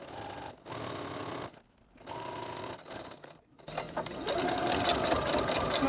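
A sewing machine runs close up, backstitching through a ballet bodice and its cording, in three bursts of rapid needle chatter with short gaps, the last burst longest.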